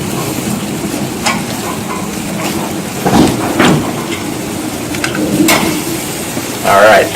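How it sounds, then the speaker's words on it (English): Pineapple glazed with sugar and cinnamon sizzles steadily on a hot barbecue grill, with a couple of soft thumps as pieces are turned with a leather mitt, close and continuous. "We're going to flip over the pineapple first."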